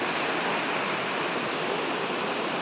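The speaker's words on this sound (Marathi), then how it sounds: "काय मित्रांनो पाणी बघा किती आहे, खतरनाक पाणी आहे." A river runs high and fast at a village bathing spot, a loud, continuous broadband rush of water with no pauses and no voices.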